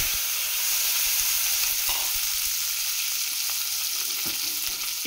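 Green chillies frying in a hot pan, a loud, dense, hissing sizzle that holds steady throughout with a few faint knocks and pops underneath, up close and without speech.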